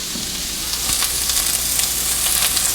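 Butter sizzles steadily in a pan as vegetables are sautéed for BBQ chicken burgers, a continuous close frying hiss with faint stirring.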